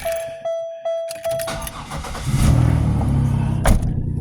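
A car engine cranks in several short bursts, catches and settles into a running idle, then pulls away with a fuller, rising engine rumble close by.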